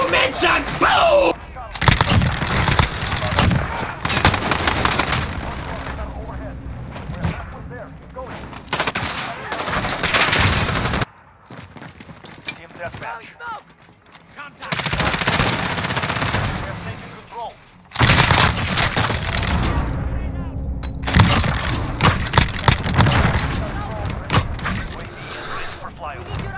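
Rapid bursts of automatic gunfire and single shots in the video game Call of Duty, loud and dense, broken by short quiet gaps, with a player talking excitedly over the shooting.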